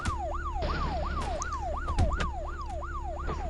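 A police car siren in the Indian Theft Auto video game wails in a rapid, repeating rising-falling cycle, loud and continuous, over a low vehicle engine hum.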